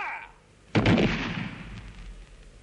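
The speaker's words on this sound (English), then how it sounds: "Firing party." A British Army firing party fires a rifle volley at a First World War execution on the Western Front: one sharp, loud crack that rolls into a fading rumble after a quiet lead-in.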